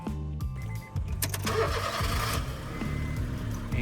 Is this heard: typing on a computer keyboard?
no